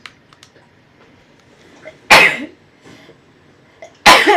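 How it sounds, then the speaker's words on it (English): Two loud, abrupt sneezes from a person suffering allergies burst out about two seconds apart, each a sharp explosive blast close to the microphone, with near silence between them. "I'm gonna sneeze again."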